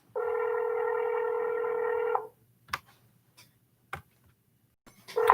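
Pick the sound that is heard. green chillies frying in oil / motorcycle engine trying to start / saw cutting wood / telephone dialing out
telephone dialing out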